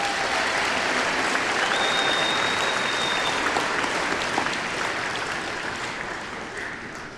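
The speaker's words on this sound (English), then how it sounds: "Let's give them a round of applause." Sustained applause from a large crowd at a school veterans assembly in a field house, dense steady clapping that gradually tapers off toward the end.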